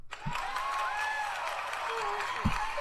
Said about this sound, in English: I think they earned like a studio clap